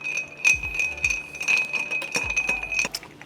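Ice clinks and rattles steadily against glass as a Negroni is stirred, a close, continuous jangle of chinks with a few louder knocks.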